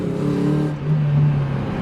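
A Mazda Miata engine hums loud and steady with a low droning pitch that rises slightly as the car pulls away after a transmission and clutch replacement, close up and without speech.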